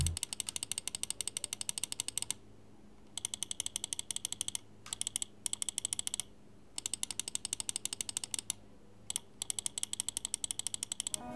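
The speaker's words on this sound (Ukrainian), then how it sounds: "Клік мені все одно подобається." Hator Quasar Wireless mouse buttons click in rapid, dense bursts of sharp ticks, repeated in several runs separated by short pauses, close and crisp.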